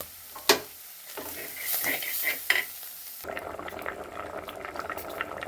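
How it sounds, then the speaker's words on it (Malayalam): Cassava boiling in a covered pot on a wood-fired stove in a village kitchen: a few sharp metallic clinks and stirring at first, then a steady, close bubbling hiss. "കപ്പ പുഴുങ്ങാനായിട്ട് അടപ്പത്ത് വെച്ചിരിക്കുകയാണ്"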